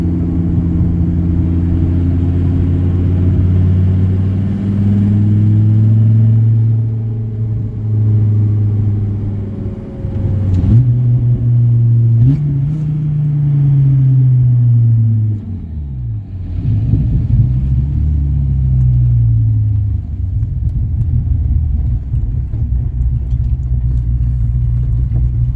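A 1996 Dodge Viper GTS 650R drives along with its engine droning loud and close, a deep harmonic rumble that rises and falls as the revs change, with no talking over it.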